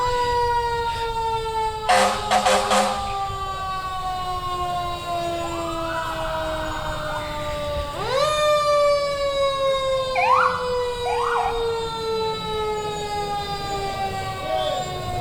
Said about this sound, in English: Tough to compete with a siren.